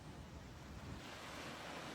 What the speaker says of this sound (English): We will finish the journey by hearing the sounds of the waves.